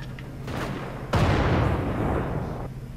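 Gunfire in Wolfenstein: The Old Blood, with a heavy blast hitting about one second in and then a dense rumbling roar of shots and explosions that carries on loud before easing off.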